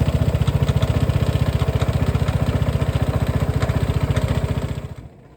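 A Vespa Sei Giorni 300 scooter's single-cylinder engine idles close by with a loud, rapid, even putter, then cuts off and falls quiet.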